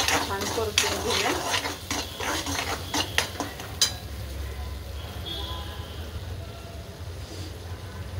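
Turmeric, salt and spices stirred and sautéed in hot oil for a drumstick curry, busy scraping and clinking of a spoon over a low sizzle that thins out in the second half, close, with faint speech in the background.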